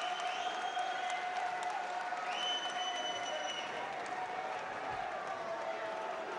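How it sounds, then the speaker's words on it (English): Crowd noise at a boxing match after the decision, a fairly faint, steady wash of cheering and clapping with whistle-like tones running through it. "Cheers of the crowd for the Pexican"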